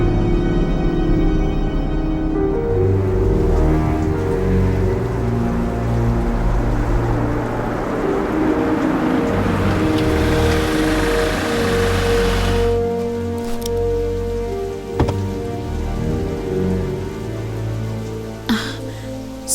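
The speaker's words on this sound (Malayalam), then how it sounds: "ഓ എന്തൊരു മഴയാ." Heavy rain pours steadily onto surfaces, a dense continuous roar with drips and splashes, loud and close throughout with no voices.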